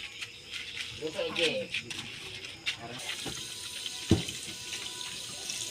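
Water runs and splashes from a tap into a sink, close and uneven, while a person talks over it.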